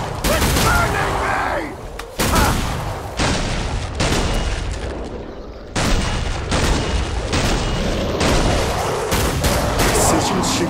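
Dense gunfire and heavy booms from a solo zone-defense battle in a shooter game, with repeated loud bursts and blasts filling nearly the whole stretch, sometimes sharp, sometimes rumbling, close and relentless.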